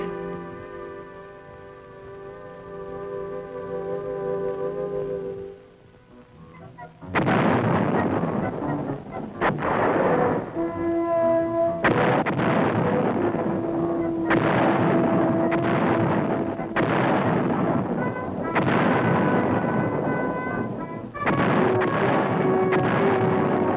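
Field artillery guns fire at a training range, with loud booming blasts arriving in repeated bursts, each followed by a lingering roar; a steady tonal hum runs beneath the opening seconds.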